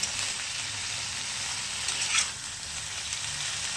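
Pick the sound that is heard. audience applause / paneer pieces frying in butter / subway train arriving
paneer pieces frying in butter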